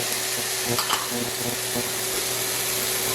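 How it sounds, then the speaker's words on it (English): Onions, green onions, ginger and garlic sizzle steadily in a hot pan while being stirred, a close, continuous frying hiss broken by a few soft scrapes of the utensil against the pan. "we want to saute these for about 2 minutes"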